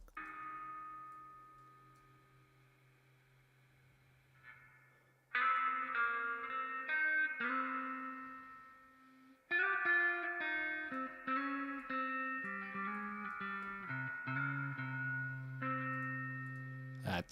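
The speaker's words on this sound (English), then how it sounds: "I'm hearing just the wet sound of the reverb" Wet spring reverb from an old guitar amp, sustained guitar chords and picked notes washing and trailing with long ambient decay, loud and up front with no talking.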